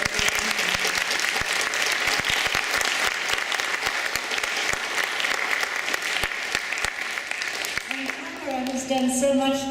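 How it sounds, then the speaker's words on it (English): An audience at an evening grassroots forum gives a long round of dense applause. It stays steady for most of the time and then fades as a tonal sound enters near the end. "let's hear a round of applause and thanks."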